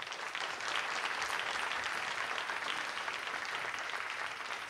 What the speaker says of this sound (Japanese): 改めて大きな拍手を。